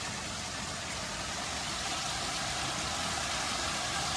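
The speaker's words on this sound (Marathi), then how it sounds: "पाण्याचा फ्लो थोडा कमी झाला आहे आता" Muddy, soil-laden water flows through a farm field channel in a steady, continuous rushing wash, at moderate volume and close by, with no talk over it.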